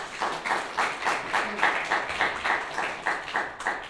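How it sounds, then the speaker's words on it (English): Rhythmic group clapping for four improv volunteers at a comic convention show, loud and close with a steady beat, a faint voice underneath. "a round of applause for our 4 volunteers"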